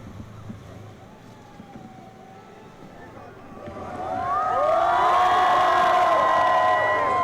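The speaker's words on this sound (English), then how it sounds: "shouting their welcome to Pope Francis." A large outdoor crowd in Luxembourg shouts and cheers in welcome for Pope Francis, starting as a distant murmur and swelling into a loud, sustained roar of many voices about halfway through.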